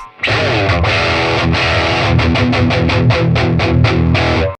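Heavy high-gain metal distortion from a Telecaster played into a Fender Twin, a sustained chord opening into a run of tight, rhythmic palm-muted chugs, loud and dense with reverb and delay, no voices.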